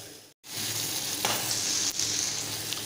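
Chopped vegetables for rajma masala frying in a pan, a steady close sizzle with brief stirring scrapes, alone without talk.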